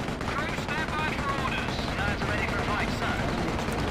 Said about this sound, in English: They have the ability to call in arty strikes, and I also have various cannons and mobile tanks that can do barrages.